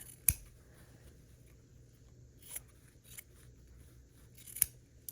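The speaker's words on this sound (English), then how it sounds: "We're going to trim this off as well, leaving 1/4 of an inch behind." Scissors snip quilt block fabric in a few sharp, isolated cuts, close and quiet, separated by soft handling noise.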